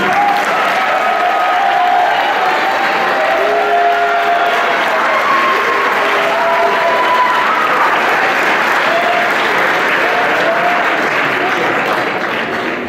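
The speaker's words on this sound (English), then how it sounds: "stand up and receive a round of applause" Warm applause from an audience at a school athletic awards ceremony honoring varsity coaches, continuous clapping filling the room with a few cheers and voices mixed in.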